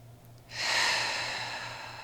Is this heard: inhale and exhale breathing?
yes